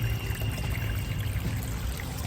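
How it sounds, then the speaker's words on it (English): Water running into a small pot of pea gravel in a garden pond, a steady soft trickle and splash continuing evenly throughout at moderate level with no voices. "There's a little pot of pea gravel in there, and my urban decay pot, which has some water running to it."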